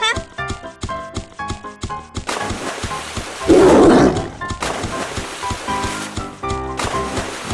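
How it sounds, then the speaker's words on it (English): A cartoon tiger gives a short roar amid busy cartoon music and sound effects, with a voice speaking over the mix. "Tiger,"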